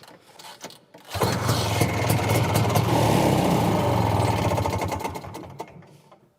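A Ski-Doo Elan snowmobile being pull-started on a cold day catches after a brief rattle and runs loudly for several seconds with a rough, buzzing two-stroke idle, then fades down near the end. No one speaks.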